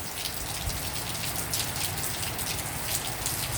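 Steady rain falls and patters on surfaces in a dense, even hiss with scattered nearby drops, continuous throughout and with no voices.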